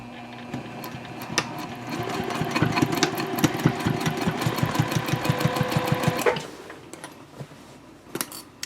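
A sewing machine runs a rapid, even burst of stitches while topstitching across a tote handbag at stitch length 3, then stops abruptly, followed by a few faint clicks.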